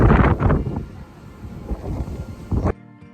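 Strong wind in Copenhagen buffeting the microphone in heavy rumbling gusts, loud and close for most of the stretch before cutting off abruptly near the end.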